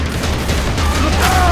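A loud, dense burst of explosive noise with crackling debris and rumble, filling the whole moment: a thrown oxygen tank exploding in the video game Left 4 Dead 2.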